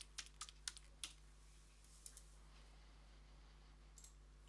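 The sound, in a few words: typing a password on a computer keyboard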